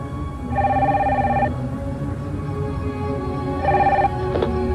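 Sanyo Compound cordless telephone from 1990 ringing, two electronic trilling bursts about a second long each, separated by a pause, clear and close with faint background noise.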